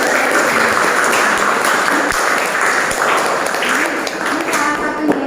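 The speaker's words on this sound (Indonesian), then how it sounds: "Tepuk tangan." A classroom full of students claps in dense, steady applause that stays loud and even for about five seconds, with no pause.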